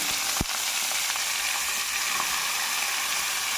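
Mustard seeds frying in hot oil for a vegetarian mushroom curry, giving a steady, dense sizzle and crackle that holds for the whole stretch, with one sharp pop near the start.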